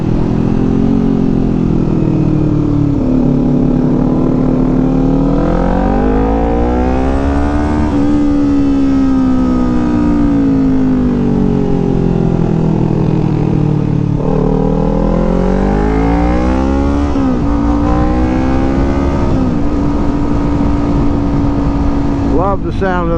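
A motorcycle fitted with a Kaufman aftermarket exhaust, ridden on a sunny road with tight corners, loud and close as its engine repeatedly climbs and falls through gears with throaty revving.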